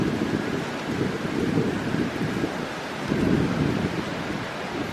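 Strong wind roars steadily across an open microphone on a morning hike in Iroquois Park, rumbling in heavy gusts that swell and ease, loud and constant, with no voices.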